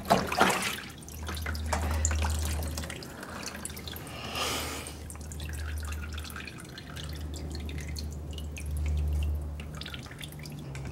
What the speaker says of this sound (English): Let's give it another quick rinse and we'll go back over it